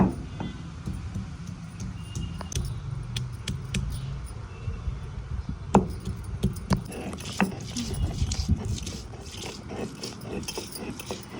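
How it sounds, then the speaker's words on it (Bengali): Ginger and garlic ground into a paste on a stone slab, irregular scraping and knocking strokes over a low rumble, growing busier and louder in the second half. "এবার আদা রসুনটা বেটে নিব।"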